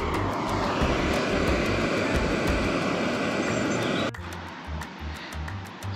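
Loud, steady roar of a Jetboil camping stove burning at a morning campsite, then abruptly cut to a quieter hiss with faint ticks.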